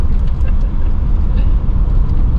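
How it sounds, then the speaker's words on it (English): An MG Metro's engine hums steadily from inside the car, a low continuous drone with road rumble, loud and close. "Oh, that does sound nice though, the car."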